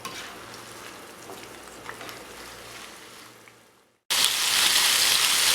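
Pieces of chicken fry in oil for a paratha roll and are turned over: a dense, steady sizzle fades briefly, then bursts back louder and brighter once the pieces land on their other side.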